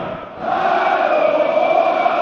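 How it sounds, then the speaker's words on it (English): A large German darts crowd in Halle 39 at the 2017 German Darts Championship in Hildesheim chants the hello upstairs, hello downstairs call, a loud sustained sung roar filling the hall. "The German crowd enjoying their little hello upstairs, hello downstairs chant"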